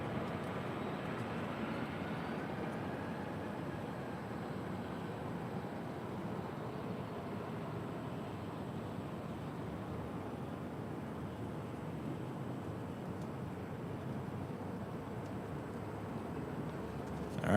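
United Airlines Boeing 737-900ER jet landing on runway 24 left at LAX, a steady broadband rumble and roar of the aircraft that holds constant throughout, heard from a distance with no talk.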